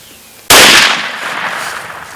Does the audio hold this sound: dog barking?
no